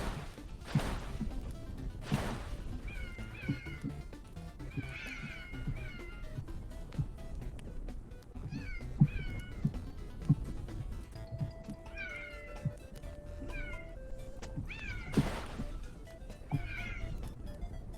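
Cartoonish cats in a party platformer game meow repeatedly throughout, short chirpy mews and drawn-out caterwauls popping up over busy game music and effects, with brief rising tones near the end.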